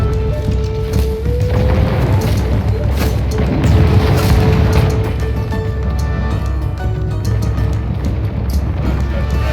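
Gunfire and explosions from a Medieval Total War: Kingdoms battle against Apache forces, with dense booms and scattered shots over a constant battlefield rumble.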